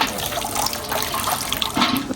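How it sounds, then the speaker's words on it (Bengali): Hot water is poured over cut meat to soak it, a close, steady splashing pour for a couple of seconds with no voices. "আম্মু কিন্তু একদম পুরো টাটকা টাটকা গরম পানি দিচ্ছে"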